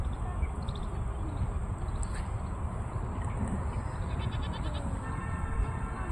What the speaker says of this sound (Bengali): ওই দেখো এখানে দেখাই মাঠে ছাগল চড়াচ্ছে না।